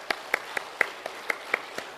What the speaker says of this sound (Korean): 우리 장로님들께 감사의 박수.